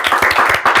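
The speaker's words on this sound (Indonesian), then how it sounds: "tepuk tangan sekali lagi dong" Brief applause from a studio audience during an Indonesian talk show, with a quick patter of claps that rises and dips and stays fairly loud and close.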